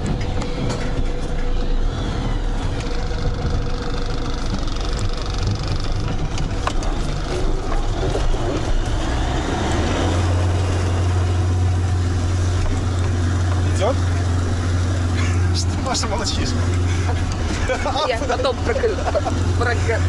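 A GAZ Sadko Next truck drives off-road with a steady engine rumble and a deep drone that thickens midway, all under continuous talk from people inside the cab.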